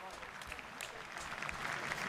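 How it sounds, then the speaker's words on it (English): A crowd gathered after the Queen's death breaks into spontaneous applause, heard faint and distant through a stream with speech over the top. "again breaking out just spontaneous applause"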